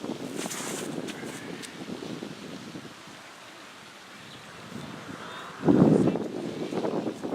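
Wind gusts buffet the microphone outdoors on a disc golf course in Estero, Florida, rumbling low and fluctuating, with a stronger blast near the end and faint rustling in the background.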